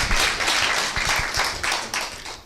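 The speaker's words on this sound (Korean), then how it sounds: "여러분들 위해 박수!" Audience clapping at a Korean business seminar, a loose burst of many hands rising to a dense patter and continuing steadily without voices.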